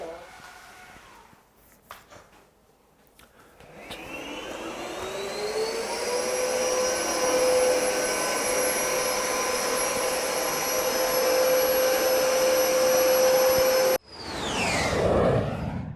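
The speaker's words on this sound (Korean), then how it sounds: "터보 모드 자동 청소를 시작합니다." A Samsung robot vacuum cleaner runs in turbo mode. A couple of soft clicks come first, then the motor spins up into a loud, steady whine with a rising pitch. It holds close and constant, then cuts off and restarts briefly.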